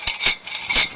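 A plumbing inspection camera cord scrapes and clicks as it is pushed through a rusty pipe, giving two rough bursts of close, hissy rattling.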